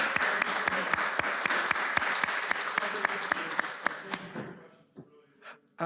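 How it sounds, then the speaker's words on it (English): Clapping from a lecture audience at a university talk, with sharp individual claps standing out over a dense wash that thins and stops after about four seconds, leaving a few scattered claps and faint voices. "Let's give another round of applause to Dr."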